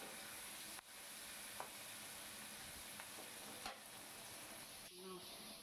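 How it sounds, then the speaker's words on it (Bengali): Chopped onions fry quietly in a pan for a yam and prawn curry, with a soft continuous sizzle broken by a few sharp spatula scrapes as they are stirred. "এবার পেঁয়াজটাকে সুন্দর করে নাড়াচাড়া করে ভেজে নিতে হবে।"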